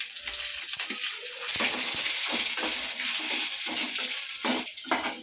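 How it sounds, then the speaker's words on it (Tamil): Mustard seeds, garlic and dried chillies sputter and crackle in hot oil in a home kitchen, a dense close sizzle that swells louder partway through and keeps popping steadily, with no talk over it. "கடுகு பொரியுது"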